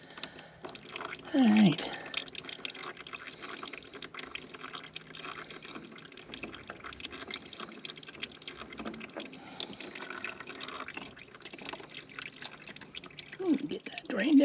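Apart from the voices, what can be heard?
engine oil draining from Bad Boy 4025H mower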